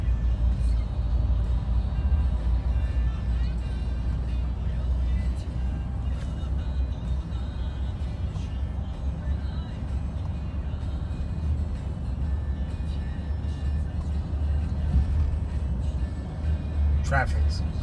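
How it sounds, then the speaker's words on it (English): Road traffic passing steadily, a continuous low rumble of cars with occasional swells of tyre and engine noise, moderately close, and a person talking over it throughout. "Traffic's crazy here at all times."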